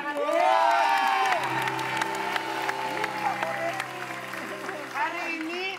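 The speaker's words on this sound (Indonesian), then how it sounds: "Kita beri tepuk tangan" Lively clapping from a small group fills the room, with cheerful voices and talk mixed in throughout.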